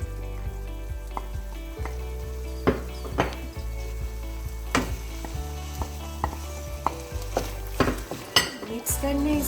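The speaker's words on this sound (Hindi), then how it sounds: "इसको मिक्स करके अब इसमें पेपर्स डाल देनी है।" Peppers sizzle in an oiled pan with oregano as they are stirred for chicken lasagna. A continuous close frying hiss sits under irregular clatters of a metal spoon against the pan, with no voices.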